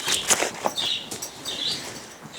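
Bird wings flap in quick bursts as it takes off, a brief fluttering whir with faint chirps, close and moderately loud.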